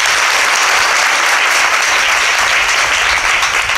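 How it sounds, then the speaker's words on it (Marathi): Loud, continuous applause from a kirtan audience gathered in heavy rain; dense, vigorous clapping at full volume fills the whole stretch with no talking over it. "याला जोरदार टाळ्या होऊन जाऊ द्या मामांसाठी."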